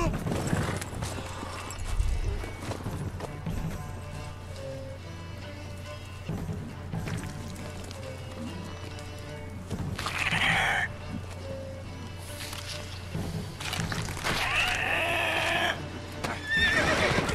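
In the video game Witcher 3, a horse's hooves clip-clop at a steady gallop over a constant low game-world hum, with occasional bursts of other effects.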